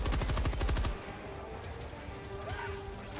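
In the video game Helldivers 2, a rapid, evenly spaced volley of loud, close gunfire lasts about a second and then stops, leaving quieter background sound.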